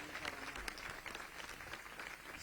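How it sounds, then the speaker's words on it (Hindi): An audience at a Guru Ghasidas Jayanti gathering claps to welcome Chief Minister Vishnu Deo Sai, a dense, steady wash of applause heard at a distance and fairly faint throughout. "माननीय मुख्यमंत्री विष्णुदेव साय जी के लिए एक बार जोरदार दोनों हाथ उठा के ताली बजा के स्वागत करो"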